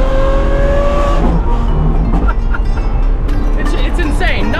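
A high-performance sports car engine revving hard up close, a loud roaring tone that climbs and falls in pitch throughout.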